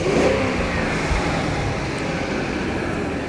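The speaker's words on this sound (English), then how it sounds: "we'll just give her a bit of a rev" A 1996 BMW 740i E38 with 207,000 miles revs steadily while parked with the bonnet open, giving a dense, loud, sustained engine roar for a few seconds with no voices.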